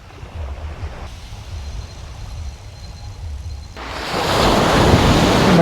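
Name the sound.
sea waves breaking on a beach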